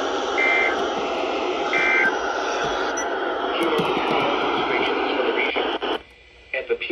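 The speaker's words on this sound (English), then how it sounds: "the National Weather Service has just activated the public warning alarm tolling" A National Weather Service weather radio warning alarm test: a steady electronic tone with short beeping pulses, broadcast-style and loud, with a voice speaking over it before it cuts off.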